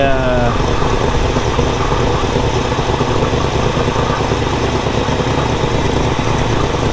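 A 1964 Chevelle engine idles steadily and loudly, with a continuous low rumble and a raspy, puffing edge from an exhaust leak throughout.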